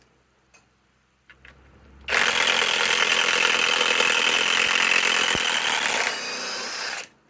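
A Kobalt right-angle cordless impact wrench on a 4 Ah battery drives a long timber lock screw into wood. It gives a loud, close, steady high-pitched whirring hammer for about four seconds, then a softer run before stopping, with no voices.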